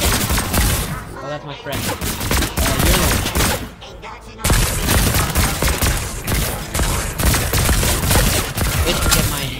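Rapid bursts of gunfire rattle almost continuously in a Fortnite match, loud and dense with short gaps, while a player talks over the shooting.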